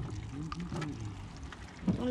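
Live crayfish poured out of a container in a steady, wet, rushing spill with slight gurgling, heard close alongside faint voices in the background.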